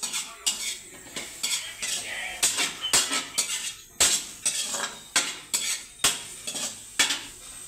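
Garlic, onion and tomato being sautéed in oil in a pan for pinakbet, with a metal utensil repeatedly scraping and clinking against the pan in an irregular stirring rhythm over a faint sizzle, close up.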